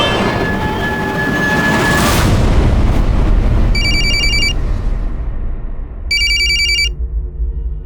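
A telephone rings twice in short electronic bursts over loud rumbling train noise, the rings spaced a couple of seconds apart.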